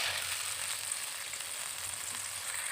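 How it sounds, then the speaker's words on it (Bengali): Water splashed onto sour yogurt in hot oil sizzles in a continuous bright hiss, steady and close with no talk. "দিয়ে দেবো এক চামচ টক দই দিয়ে একটু গরম তেলের মধ্যে নাড়াচাড়া করে নেবে এবার সামান্য একটু জল দেবো"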